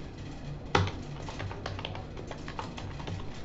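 Typing on a computer keyboard while deleting code, a single sharp keystroke followed by a scattered run of light, close clicks and taps over low room hum.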